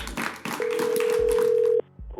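A steady telephone dial tone sounds on a phone line as a call is placed to an NFL draft pick, holding for over a second amid room noise before cutting off.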